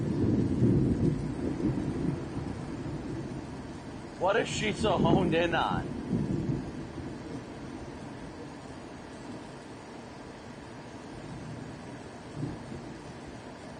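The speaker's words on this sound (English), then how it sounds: "I sure hope you guys can hear all this thunder." Deep rumbling thunder rolls through Wisconsin severe weather, strongest at the start and fading to a steady low roar, with someone briefly speaking over it midway.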